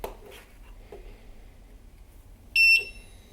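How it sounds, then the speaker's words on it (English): A quiet electronic beeper on an Extreme Bull Commander electric unicycle gives one short, steady high tone with a harmonic ring, standing alone over faint room noise after a few soft handling sounds. "Beeper is very quiet."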